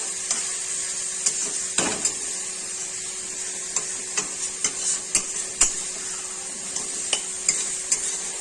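Garlic paste being stirred in a hot frying pan for a snakehead fish curry, with a steady close sizzle and repeated sharp scraping clicks of the spatula against the pan.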